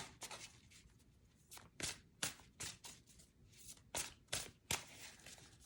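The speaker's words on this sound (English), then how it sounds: "I shuffle the cards real good" Tarot cards shuffled by hand, giving irregular soft riffling and slapping bursts, about ten short rustles over several seconds, close and quiet, with no talking.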